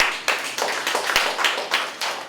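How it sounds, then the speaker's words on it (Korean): An audience at a labor union talk claps in a scattered, moderately loud burst, with individual hand claps standing out irregularly over a little more than two seconds. "이것도 박수 한번 쳐주시죠"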